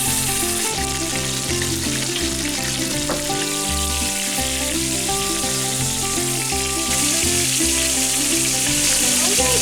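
Hash brown patties fry in oil in a pan, a loud, continuous close-up sizzle and crackle that holds steady throughout, with faint background hum and no clear talking.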